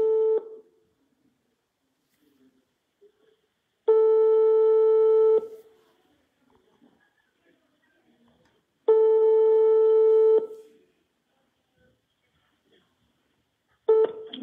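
A telephone line tone sounds during a call to the police: three loud, steady beeps of about a second and a half each, separated by silent gaps, with the start of a fourth at the end.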